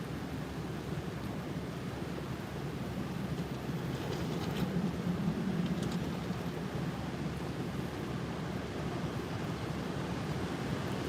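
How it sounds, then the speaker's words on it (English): Ocean waves roll in during Hurricane Ida on the Louisiana coast, a broad continuous roar of surf mixed with wind buffeting, steady and loud throughout with slight swells in intensity. "You can hear the waves coming, guys."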